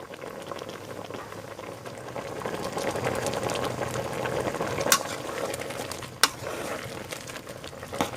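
A pot of frog and gourd curry boils hard, giving a dense, close bubbling that carries on steadily, broken by two sharp clicks near the end, and nobody talks.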